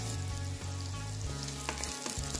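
Onion is dropped into hot oil after garlic has browned in it, giving a dense, loud, continuous frying hiss up close over a low steady hum.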